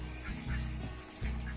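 A small pompom duck quacks on a rural farm, giving a few short nasal calls close by against a steady outdoor background.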